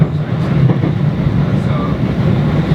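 Heavy continuous rumble and rattle from a Blackpool tram running along the seafront promenade, loud and steady throughout, with no clear talking.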